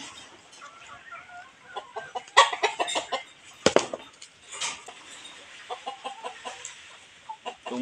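Native chickens cluck in a farmyard while feeding on coconut, a steady scatter of short clucks near and far with one louder squawk midway.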